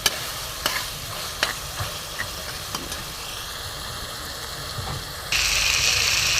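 Ridge gourd and fish being stir-fried in a pan, village style: soft scraping and clicking stirs over a low, continuous sizzle that swells into a louder, brighter hiss near the end. No voices.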